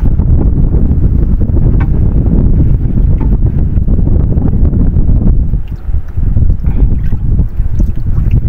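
Strong wind buffets the microphone steadily on an outdoor riverside fishing spot, a continuous loud low rumble with gusty fluctuations throughout.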